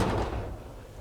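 The door of a 1973 LS-swapped Chevrolet C10 pickup truck with new weather stripping swings shut with a single soft, muffled thud that quickly fades, close by and alone.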